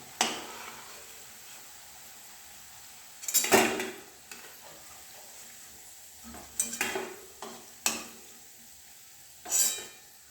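Pakoras (onion piyaji) frying in a pan of oil as they are stirred and lifted, heard as a faint sizzle broken by several sharp scrapes and clinks of a spoon against the pan.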